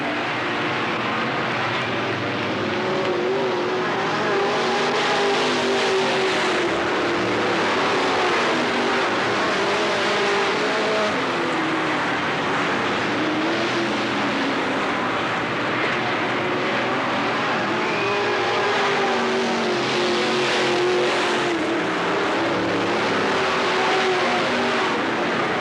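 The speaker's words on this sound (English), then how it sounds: "Looks like this week Osborne with one more lap to go will return the favor." Race cars roar around the Riverside Speedway dirt oval in Cottage Grove during a 1991 race, engines droning loudly and steadily with swelling passes near the final lap, and no talk over the din.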